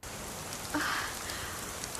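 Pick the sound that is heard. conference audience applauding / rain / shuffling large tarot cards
rain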